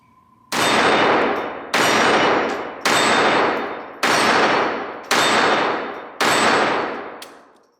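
Walther P22 .22LR pistol firing six evenly spaced shots at a steel target, each a sharp loud crack with a ringing metallic tail that fades before the next.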